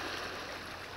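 Water of the Usa river flows along the bank near moored boats, giving a brief, steady, soft rushing wash.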